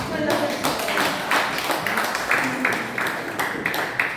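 An audience claps at a Korean forum meeting on strengthening the Korea-US alliance, with fairly loud, steady clapping from a group of people.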